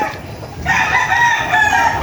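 Farmyard fowl, mother hens among their chicks, call and cluck close by, a burst of throaty calls rising after a quiet start and continuing steadily without talk.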